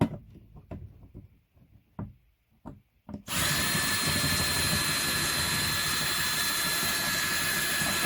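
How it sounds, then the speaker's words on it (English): A handheld power drill with a poor drill bit starts with a few short taps and bumps, then spins up into a loud, steady high whine as it bores into a notice board, continuing unbroken to the end. "This drill bit is terrible."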